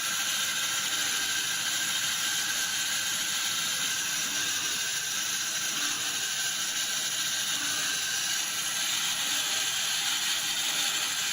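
A sawmill runs as its saw wheels cut through a log, a continuous loud mechanical whir and grinding with steady high-pitched whine, unbroken and close throughout, no voices.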